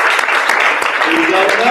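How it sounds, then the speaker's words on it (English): A crowd gives a round of applause to two special guests at an intro, brisk dense clapping throughout with a voice and some tonal sounds rising under the clapping near the end. "give them a round of applause"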